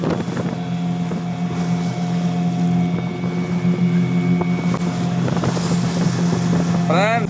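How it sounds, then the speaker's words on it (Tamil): Water splashes hard against a small fishing boat at sea amid a constant engine drone and heavy wind rumble, with rough choppy surges and a brief squeal near the end. "சலார் சலார்னு தண்ணி அடிக்குது ஃப்ரெண்ட்ஸ்."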